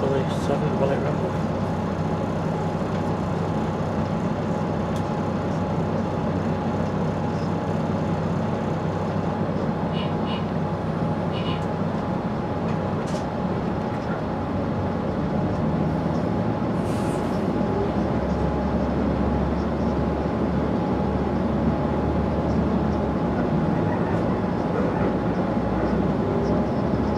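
A London Midland passenger train to Worcester Shrub Hill rumbles steadily along the track, a continuous loud cabin drone with faint clicks, while an onboard announcement voice speaks over it.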